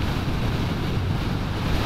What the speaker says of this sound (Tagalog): Grabe, sobrang lakas ng hangin.